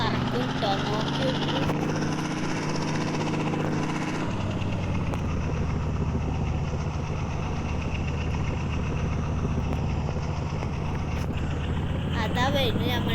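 Helicopter in the mobile game Indian Bike Racing 3D gives a constant loud rotor and engine hum, holding steady throughout with a slight shift in tone early on.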